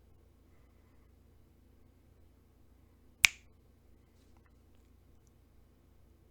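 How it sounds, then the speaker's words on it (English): A single sharp finger snap rings out once, crisp and close, against a quiet room with a low steady hum. "When I snap my fingers,"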